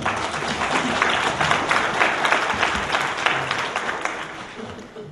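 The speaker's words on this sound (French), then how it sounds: "Je vous demande de vous applaudir vous-même parce que vous le méritez" An audience at a political gathering in New York applauds itself, a loud, dense burst of clapping sustained for several seconds before easing slightly.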